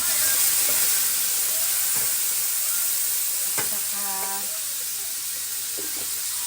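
Tofu sizzling in a hot pan with soy sauce and black pepper, a steady loud hiss with faint clinks of stirring over the top.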